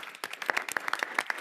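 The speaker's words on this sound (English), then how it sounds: "Let's give a big round of applause." Applause at a school board of education meeting, a roomful of people clapping with crisp individual claps standing out, steady for over a second at moderate level.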